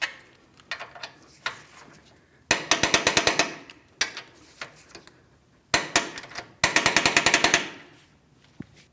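A ratcheting wrench clicks in rapid bursts while torquing front control arm hardware on a 2016-2025 Chevrolet Malibu, with quick repeated ratchet strokes separated by short pauses and scattered single clicks, loud and close.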